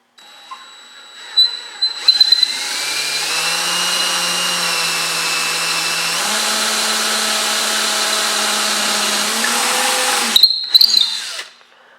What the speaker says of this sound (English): I just drilled a hole in my bowl.